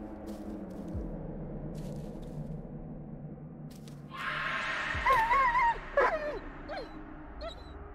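A dog whimpers and yelps in distress in the horror video game Blair Witch. Thin, wavering high whines and a few sharp yips rise over quiet ambient game sound and a couple of dull thuds about halfway through.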